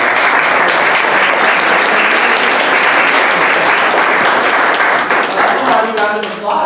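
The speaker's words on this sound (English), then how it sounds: "Round of applause" Audience at a morning business networking meeting breaks into sustained applause, dense and loud throughout, tapering slightly at the end as a voice begins to speak.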